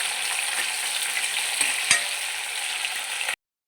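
Onions, cumin and dried chilies fry in a hot pan while being stirred, giving a steady loud sizzle with a few scraping knocks of the spoon before it cuts off abruptly.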